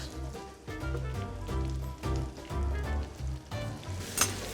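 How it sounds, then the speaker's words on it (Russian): Meat browning in a hot pan for Texas-style chili con carne, an energetic sizzle with bursts of spattering and stirring, close and fairly loud. "Теперь обжариваем мясо."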